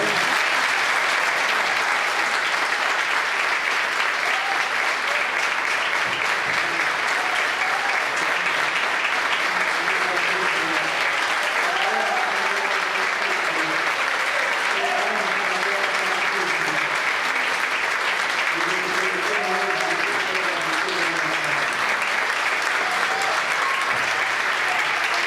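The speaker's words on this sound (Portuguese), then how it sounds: "Vamos aplaudir a Deus." A church congregation at a deliverance service applauds steadily and loudly for the full length, with a dense wash of clapping and faint voices mixed in.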